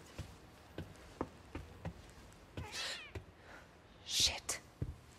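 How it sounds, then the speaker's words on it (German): A cat meows a couple of times in The Medium, faint and short, among soft ticking footsteps and low game ambience. "Eine Katze."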